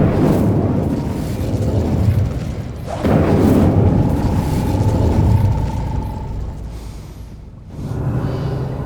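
An Incendio fire spell cast in Hogwarts Legacy bursts out as a whooshing, booming blast, then a second flare follows and roars steadily before fading into a softer rumble.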